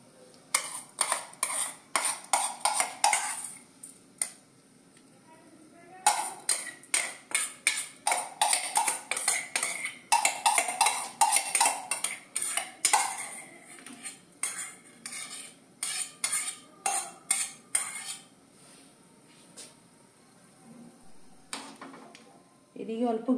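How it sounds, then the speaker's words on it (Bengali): Rice added to boiled milk for Bengali payesh and stirred in a pot, producing bursts of metallic clinks and spoon scrapes that stop and start with short quiet gaps. "দুধ আমার ফুটে গেছে, এবার আমি এই চালটাকে পুরো দিয়ে দেবো।"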